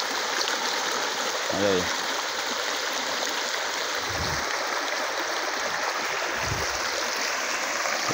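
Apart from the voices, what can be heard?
stream flowing with lots of water after rain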